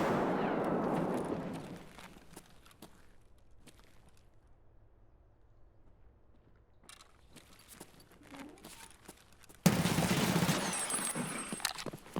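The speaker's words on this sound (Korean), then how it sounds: "Oh no, grenade!" A grenade goes off in Escape from Tarkov. Scattered shots and footsteps in a near-silent lull are followed by a sudden loud blast whose roar carries on to the end, with faint voices in the background.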